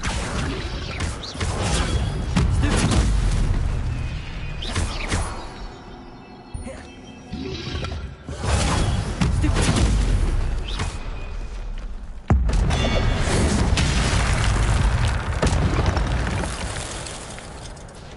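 The Incendio fire spell cast in Hogwarts Legacy, with loud roaring whooshes and fiery rumbles that swell and drop repeatedly, plus a sharp burst partway through.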